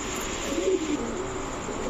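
Pigeons coo softly in a loft where pairs of pigeons are kept for sale, with a brief cluster of throaty calls near the middle over steady background noise.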